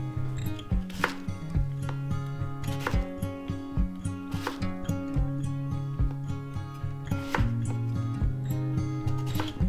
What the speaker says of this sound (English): Cut 3 inches of daikon radish in half lengthwise, then cut into half-inch slices.